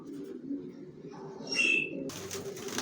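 Racing pigeons in a loft, soft low cooing murmuring steadily throughout, with a brief higher chirp and a short flutter of wings near the end, fairly faint and close.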